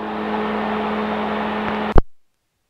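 The engine of a Magni M24 gyrocopter revs in flight while climbing up an Alpine valley between Switzerland and Italy, a loud steady whirring drone with a constant tone that cuts off abruptly near the end.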